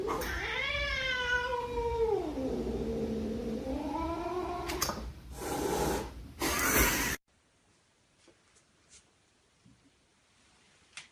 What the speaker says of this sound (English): This cat does not approve of the use of black magic.